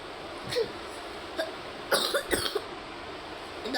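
A person coughs several times in short, separate bursts, with two harsher coughs close together near the middle, over a quiet background.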